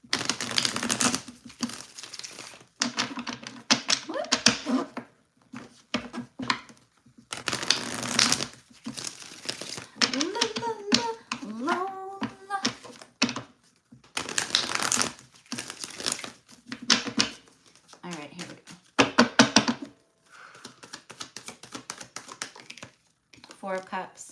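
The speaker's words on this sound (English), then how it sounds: "Let me just get a good shuffle in real quick." Tarot cards being shuffled in quick, crisp riffling bursts, repeated several times with short pauses, with a voice talking in between.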